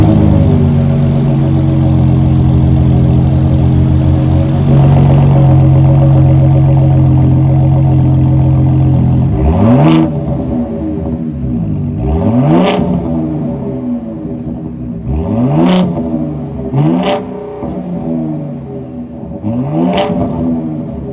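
A 2024 Ford F-150 Raptor's high-output 3.5-liter twin-turbo V6 runs at a steady idle, then gets blipped in five or six sharp rising revs that fall back between each, loud and close with no talking.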